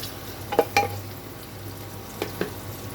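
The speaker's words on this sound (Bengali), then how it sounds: "প্রথমে পেঁয়াজ মরিচ ভেজে নিচ্ছি" Onion and chili frying in a pan give a quiet, steady low sizzle, broken by a few light clinks of a utensil against the pan. No voices are heard.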